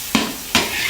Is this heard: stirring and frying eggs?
yes